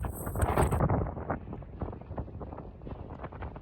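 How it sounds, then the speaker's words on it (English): Gusty wind buffets the microphone while riding BMX bikes across the desert, giving an uneven, rumbling roar that rises and falls with no voices. "It's getting windy."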